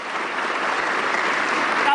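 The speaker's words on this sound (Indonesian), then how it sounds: "Kita kasih tepuk tangan." An audience claps in a steady, dense wash of applause that holds evenly throughout, with voices faintly mixed in.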